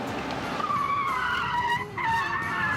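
A Ford Fiesta ST or Focus ST thrown into a slide on a race track, its tires squealing in long wavering whines over a steady engine drone, with a fresh squeal starting near the end.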